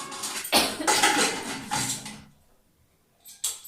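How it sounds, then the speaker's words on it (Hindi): Chopped bottle gourd pieces tumble into a metal pressure-cooker pot in a kitchen, giving a close run of clattering knocks and scrapes that fade to quiet, then a couple of sharp metallic clinks. "तो अब डाल दूंगी मैं इसमें ये लौकी जो मैंने काट के रखा था।"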